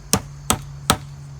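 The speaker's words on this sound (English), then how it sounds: "we're going to just hammer it in until we reach our 1/2 inch mark" A hammer drives a part into an inline clip, three sharp, evenly spaced strikes about 0.4 seconds apart over a low steady hum.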